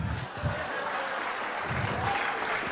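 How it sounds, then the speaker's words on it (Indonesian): Audience applause at a public event, a steady wash of clapping running through the whole stretch with a couple of louder swells, fairly distant and diffuse. "Tepuk tangan dong."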